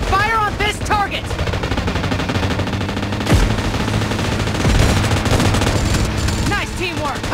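Machine-gun bursts and scattered gunshots in PUBG Mobile, loud and sustained with a few heavier booms, while voices speak over the firing.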